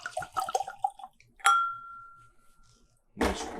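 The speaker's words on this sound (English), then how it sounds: "Nice ringing of my Glencairn" A Glencairn whiskey glass is struck and rings with a single bright, sustained tone that slowly fades, preceded by small pouring and clinking sounds and followed by a rustle.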